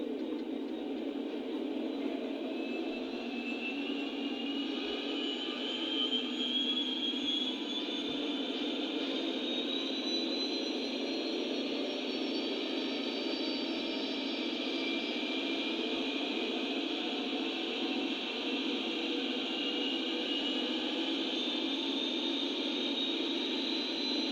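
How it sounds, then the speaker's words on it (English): A steady, dense engine drone from a Lionel Legacy Norfolk Southern SD45 model diesel locomotive with Super-Bass, low rumble and high whine, holding constant throughout as it revs at a sustained high pitch. "Now that the locomotive is in idle and the bass is going, I'm going to put the RPM up."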